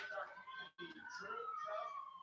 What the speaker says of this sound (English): You can hear the EMS sirens in the background